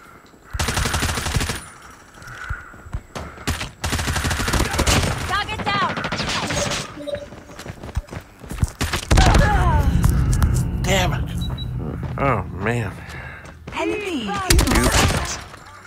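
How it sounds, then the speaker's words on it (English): Rapid automatic gunfire and bursts of shots from the mobile shooter Call of Duty Mobile on iPhone, loud and near, with voices and game speech heard over the firing throughout. "Why are you shooting at me?"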